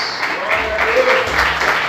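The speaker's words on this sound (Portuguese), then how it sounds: "Aplauda Jesus mais forte" Worshippers in a church congregation clap hard and steadily, a full sustained patter of many hands mixed with raised voices throughout.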